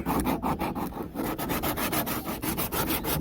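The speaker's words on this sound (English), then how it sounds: "I'm going to hit this with the sandpaper," Sandpaper rubbing back and forth over a plastic repair patch on a Pelican Apex 80 XE kayak, a steady, rapid rasping rhythm of even strokes, close and fairly loud, with no talking.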